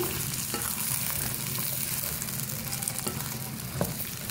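Half a kilo of okra cut into medium pieces fries in oil with a steady, dense crackling sizzle that fills the whole stretch, close and even, with no voices.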